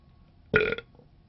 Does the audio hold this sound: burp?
yes